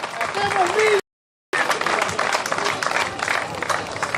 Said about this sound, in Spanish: Forte aplauso para eles tres, forte aplauso para estes homes